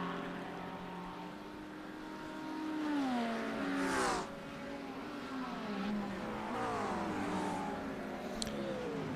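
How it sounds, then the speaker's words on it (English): Lamborghini race car engine in a GTD-class sim race at Zolder, rising and falling through gear changes with sweeping harmonic pitch climbs, a loud pass near the middle and steady engine drone throughout, no talking. "That Lamborghini sounds so good"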